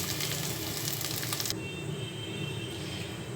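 Lentils for a vegetarian chola dal tipped into spices already fried in a pan, a steady close broadband sizzle that thins a little halfway through, no voices.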